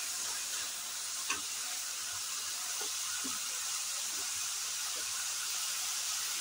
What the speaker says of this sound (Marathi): चांगलं तेलात फ्राय झालं की ह्याच्यात गरम पाणी ओतायचं आहे।